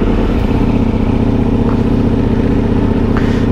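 Ducati Multistrada V4 S motorcycle engine warming up, a loud, close, steady idling rumble with a busy mechanical clatter throughout and no talk.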